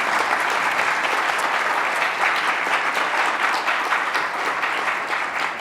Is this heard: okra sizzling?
no